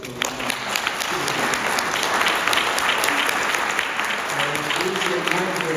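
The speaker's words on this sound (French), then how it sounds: "je pense qu'on peut les applaudir encore une fois" Audience clapping together after a French-language talk honouring people facing illness, steady dense applause sustained throughout with a few voices murmuring underneath.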